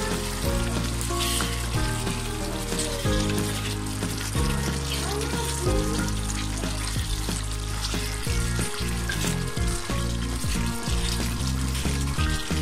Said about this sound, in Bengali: এখন আমি কয়েকটা শুকনো মরিচ দিয়ে দিচ্ছি